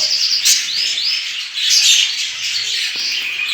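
Budgerigars chirp in a nest box holding a blue pair and several chicks, with bright, rapid tweets and short warbling calls repeating close by over a faint background.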